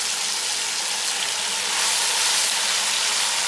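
Ground green chili and tomato hit browned onions in a pan for chicken yakhni pulao, giving a loud, steady, close hissing sizzle that holds throughout with no pauses.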